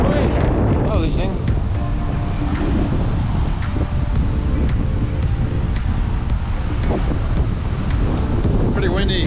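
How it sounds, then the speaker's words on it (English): Strong wind blowing on a beach in the Cayman Islands, a steady loud roar buffeting the microphone for the whole stretch with no break. "It's pretty windy."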